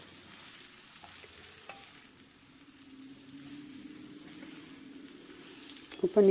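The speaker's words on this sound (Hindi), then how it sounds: "फ्लेम मेरी हाई रहेगी और इसको ज़रा अच्छे से मैं चलाऊँगी।" Mixed vegetables sizzle in a pan on high flame, a soft, steady hiss of frying with occasional scrapes of stirring and a louder clatter near the end. No one speaks.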